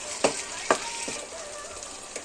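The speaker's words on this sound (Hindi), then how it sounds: "टमाटे अच्छी तरह भून ली माय फ्रेंड्स, इसमें अपन राइस डाल देंगे।" Rice added to a pan of fried tomatoes, sizzling steadily, with a few sharp scraping stir strokes over the crackle, close and with no talking.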